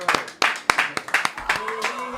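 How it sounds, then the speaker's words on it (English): An audience at an EP release event claps along in a brisk, uneven burst of sharp hand claps, several hands slightly out of sync, moderately close and without talk. "Clap your hands, all you people."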